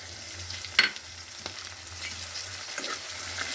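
Tomatoes added to a hot pan of meal maker curry, giving a soft steady sizzle and frying crackle with a few small pops, close and fairly quiet.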